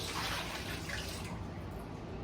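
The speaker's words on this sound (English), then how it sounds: "I'm gonna go ahead and pour the water in there" Water poured into the pot of a Costa Farms fiddle leaf fig plant, a continuous soft splashing gush close by that thins slightly toward the end, with no talking.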